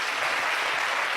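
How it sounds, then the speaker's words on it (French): A live audience claps in a brief, dense burst of applause that stays steady and fairly loud for the whole moment. "Applaudissements pour Imra."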